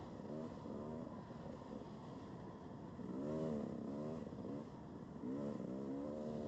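A dirt bike on a sand motocross track revs in repeated rising surges, the engine climbing in pitch several times as it passes near, with steady wind-like noise beneath and no talk.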